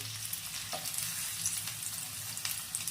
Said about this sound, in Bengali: পরেরগুলো একই রকম ভাবে ফ্রাই করা হয়ে গেছে। এবার এগুলো তুলে নিচ্ছি।